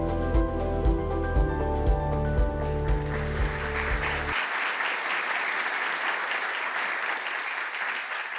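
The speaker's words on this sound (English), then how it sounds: "Let's hear another round of applause for the 5 civil rights leaders who called for this summit" Music plays over applause at the United We Stand Summit, then the music cuts off and the audience keeps clapping, a thick, sustained wash of hands continuing to the end.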